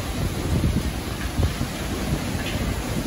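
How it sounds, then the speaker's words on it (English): Heavy rain from Hurricane Laura in Lake Charles, Louisiana, falls as a steady, loud, dense hiss with low rumbling that could be distant thunder, continuous and without voices. "So much rain,"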